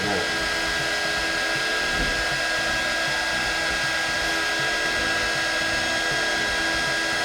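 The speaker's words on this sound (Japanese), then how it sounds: "伸ばしたらエンボスヒーターで これ何やってるかっていうと、乾かしてるんです" An embossing heat gun blows a constant, loud whirring hiss while drying acrylic gel medium on a diorama wave surface, with faint talk underneath.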